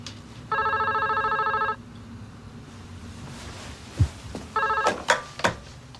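An electronic telephone rings twice in steady, even bursts, clear and close, with handling rustles and light knocks between and after the rings.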